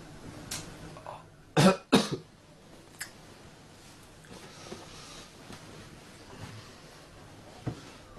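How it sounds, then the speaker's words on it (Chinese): A man coughs dryly and clears his throat at night in a quiet room, with two strong close coughs in quick succession and fainter throat sounds spaced out later over a low background hiss. "还时不时地咳嗽两声，并且用手摸摸自己的喉咙"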